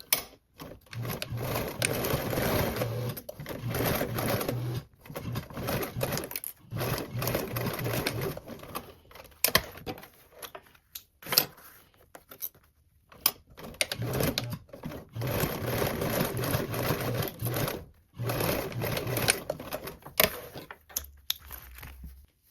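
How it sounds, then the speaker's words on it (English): A sewing machine runs in bursts as it stitches short fabric edges with a 3/8 seam allowance on a vinyl and zipper travel bag. Several whirring runs are broken by brief pauses and small handling clicks. "Now I'm going to sew both of these short edges with a 3/8 seam allowance"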